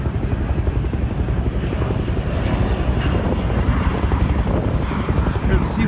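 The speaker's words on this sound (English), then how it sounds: "Here's the C-130." A C-130 military transport aircraft at an air show, heard as a loud, continuous propeller and engine drone that stays close and steady throughout, with no clear voices over it.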